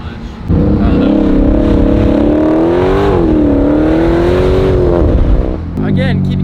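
Heavily modified BMW F82 M4 accelerating hard at full throttle down a street, a loud close engine roar rising and holding steady for several seconds before easing off.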